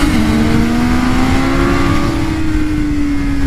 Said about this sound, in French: Écoutez-moi ce moteur.